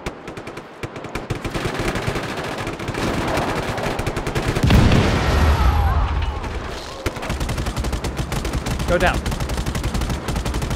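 Gunfire and cannon blasts crackle and boom through a Just Cause 3 firefight, with rapid bursts, a heavy explosion near the middle, and brief shouted talk over the top.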